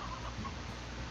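Chickens cluck in the video game Slime Rancher, a steady, moderately quiet farmyard murmur that runs through the whole moment without any talk over it.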